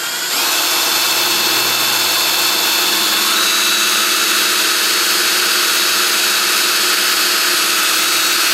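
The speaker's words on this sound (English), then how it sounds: "That hole was drilled with a 1/8 drill bit" A power drill runs continuously at high speed, boring a hole with a 1/8 bit while building a homemade high pressure air cannon. The whine is loud, close and steady from start to finish, with no voices.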